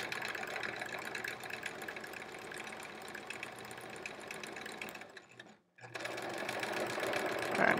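A sewing machine free-motion quilts a circle on a Splendid Sampler quilt-as-you-go block, running in a steady close buzzing drone, briefly halting for a split second before resuming and speeding up, with no talking.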